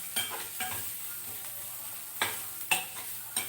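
Ginger frying in a little oil, a low continuous sizzle broken by several sharp stirring scrapes of a spoon in the pan, close and quiet with no voices.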